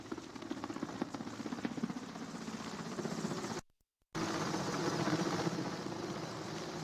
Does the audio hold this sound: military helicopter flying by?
yes